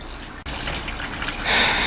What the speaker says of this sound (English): we're gonna get some oil dripping from there too